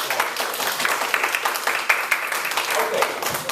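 An audience at a youth speaker event claps, a lively patter of many hands with distinct individual claps popping out, moderately loud and close, with cheering voices rising through it near the end.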